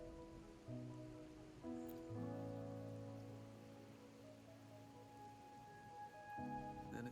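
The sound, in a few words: rain falling, from the video game Wuthering Waves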